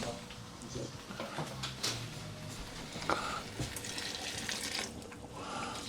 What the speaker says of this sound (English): And then a bit of hot water from the kettle.